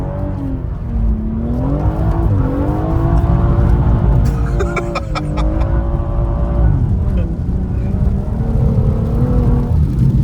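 A BMW M140 revs and drones through donuts, engine pitch rising and falling in wavering sweeps, loud and close throughout, with a voice talking over parts of it.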